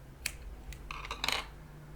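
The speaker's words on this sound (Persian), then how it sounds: "تهش رو که گره زده بودم و قیچی میکنم." Scissors snip the knotted wick end of a handmade candle, giving a few crisp, close metallic clicks and a quick cluster of snips near the end.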